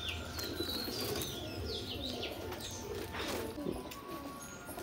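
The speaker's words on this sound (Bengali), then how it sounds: "এটা সবুজ, ম্যাগনেটের কবুতর।" Green Magnet pigeons, a male and female pair, flap their wings and coo at a pigeon sale in Ichapur, West Bengal. Busy wing flutters and chirps continue throughout, with no talking.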